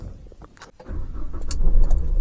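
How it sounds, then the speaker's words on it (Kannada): A Renault Pulse diesel car engine cranks and starts, building into a steady low idle rumble with some clicks and rattles at the start. "ಇಂಜಿನ್ ಸೌಂಡ್ ಅಂತೂ ಚಿಂದಿಗುರು."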